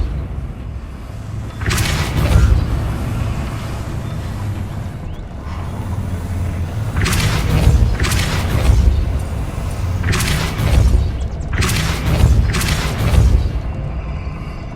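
Repeated booming Repulsor spell blasts in Hogwarts Legacy, several loud bursts arriving in clusters over a rumbling game soundscape with no talking.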